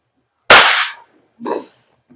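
An Umarex Glock 45 Gen 5 airsoft gas blowback pistol fires two sharp, loud cracks about a second apart, the second shot slightly weaker, each ending abruptly in silence.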